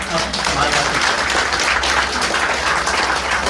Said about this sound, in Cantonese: 我哋都俾啲掌聲社長好嘛？